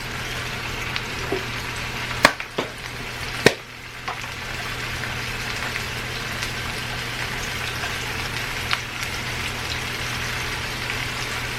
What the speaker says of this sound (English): I'm going to go ahead and just give them a nice sear on the outside of that